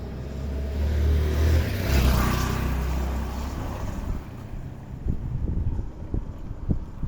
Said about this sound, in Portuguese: o carro tem que vir passando aí no meio de outros carros